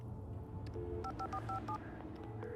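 A telephone is dialed in Alan Wake: a short run of distinct keypad tones beeping one after another at a quick, even pace, fairly quiet.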